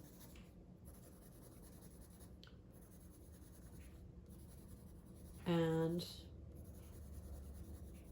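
Colored pencil rubbing across paper while a cartoon monkey is filled in, a steady soft scratchy scraping that runs throughout under a brief spoken word.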